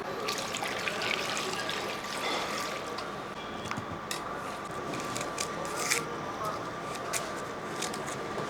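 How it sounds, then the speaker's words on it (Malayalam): Scraped carrots and a potato being washed under running water for a vegetable curry: steady splashing and trickling with small clinks and rustles, continuous and fairly close throughout. "നന്നായിട്ടൊന്ന് കഴുകിക്കൊണ്ട് വരട്ടെ."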